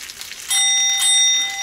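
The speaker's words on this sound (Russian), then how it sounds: "колокольчик" A small bell rings once with a bright, sustained metallic tone that hangs and slowly fades, sounding close and clear with no talk over it.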